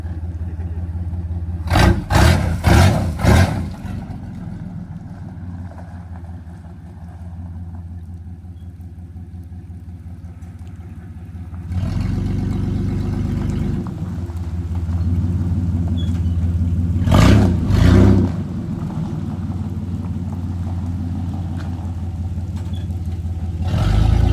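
A Chevy S10 truck with a cut exhaust idles with a rough, loud rumble. It gives a couple of sharp revving bursts early on, settles into a deeper throbbing idle, then revs hard again.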